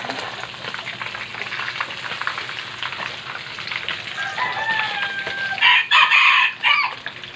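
Milkfish (bangus) frying in a pan, with continuous spattering and crackling oil that swells into louder bursts of popping toward the end; no voices are heard.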